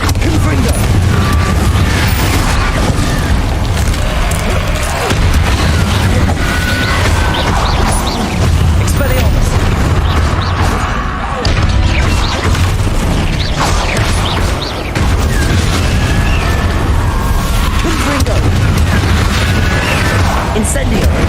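Confringo blast spells exploding in Hogwarts Legacy, repeated booms and crashing impacts across a loud, busy battle, with a voice talking over much of it.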